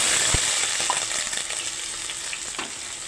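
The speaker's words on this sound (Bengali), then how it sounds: "এখন আমি আলুগুলো ভেজে নিচ্ছি।" Potato pieces frying in hot oil in a kadai, a steady close sizzle with a few sharp clinks of a utensil against the pan, no voices.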